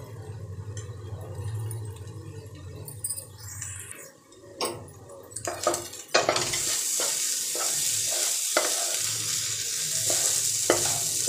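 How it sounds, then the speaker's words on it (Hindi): Egg bhurji with kasuri methi fries in a pan with a constant sizzle, broken up midway by a burst of spatula scraping and stirring, then the sizzle returns strongly. "अगर सूखा खाना पसंद करते हैं थोड़ा सा और भून लें बढ़िया से अच्छे भुर्जी को"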